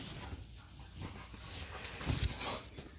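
A dog pants and whimpers close by indoors, with quick breathy huffs and a thin whine rising toward the end, alone with no talk.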